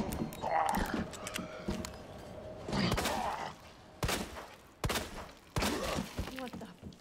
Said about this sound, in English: I gotta reload